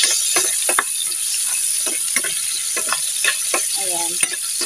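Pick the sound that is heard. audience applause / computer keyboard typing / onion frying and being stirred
onion frying and being stirred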